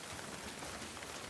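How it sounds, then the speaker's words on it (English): Steady rain in the video game The Last of Us Part II, a soft, even wash of rainfall coming through a roof, faint and continuous with no voices. "Didn't even have collision to stop the rain from coming through the roof."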